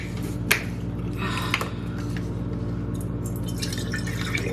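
Sweet tea is poured into a cup, giving a few sharp clicks and drips and then short, splashy bursts of liquid against a steady background hum.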